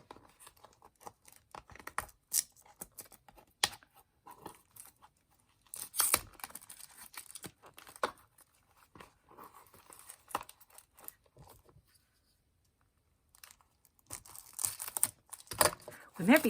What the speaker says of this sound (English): It's all wrapped in plastic, so I gotta cut through it to get it open.